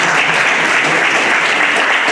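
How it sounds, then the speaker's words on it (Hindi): An audience at a retirement ceremony breaks into loud, dense applause that fills the room evenly from start to finish. "एक बार जोरदार ताली से"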